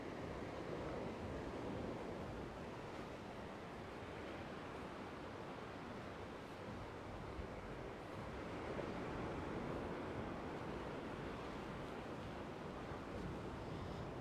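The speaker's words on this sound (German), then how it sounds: "Hier am Strand." Steady surf rolling onto a beach beside a quiet seaside promenade in the evening, a continuous broadband wash of waves with light wind, no voices.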